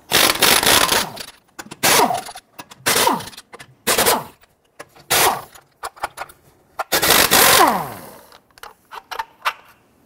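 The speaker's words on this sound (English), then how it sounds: "Using a 21mm socket, go ahead, loosen and remove your lug nuts." Impact wrench bursts from a 21mm socket loosening and removing lug nuts on a 2005-2021 Nissan Frontier 4.0L V6, several loud rattling bursts of about a second each separated by short pauses, with a faint whine trailing off.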